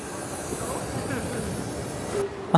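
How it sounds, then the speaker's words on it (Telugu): A steady low rumble of a Tokyo metro train running through a building, with a faint hiss on top and a brief squeal near the end. "బిల్డింగ్ లోపల నుండి మెట్రో వెళ్తుంది"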